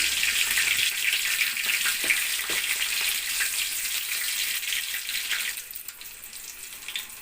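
Green and dried red chillies frying in hot oil in a pan on a stove: a steady, close hissing sizzle, with faint crackles throughout.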